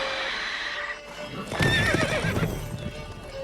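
Geralt's horse Roach in The Witcher 3 gives a close, loud whinnying neigh with snorting and hoof clatter, in a short burst following a brief spoken line.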